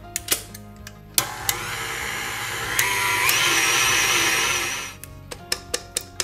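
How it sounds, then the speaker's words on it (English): An electric mixer whips frosting for cinnamon rolls in a steady whirring burst of a few seconds, framed by sharp clicks and knocks of a spatula against the bowl. "I'm gonna help my mixer out."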